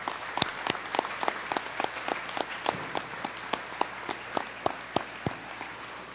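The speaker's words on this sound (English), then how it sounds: "Would you please join the graduates in thanking these faculty members for their assistance by offering a round of applause," A small audience at a high school graduation applauding: a steady patter of individual claps, fairly sparse and distinct, continuing evenly throughout with no voices.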